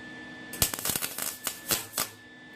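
Short sharp crackling bursts of tack welding on a floor pan repair panel for a 1968–72 GTO, Chevelle or LeMans, several quick pops clustered close together over a faint steady hum.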